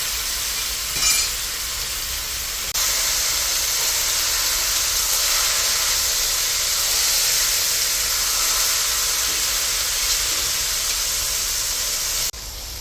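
Small kachki fish frying in a wok with whole cumin: a loud, steady hiss of sizzling oil jumps up as the fish go in and carries on evenly for several seconds, close and without talk.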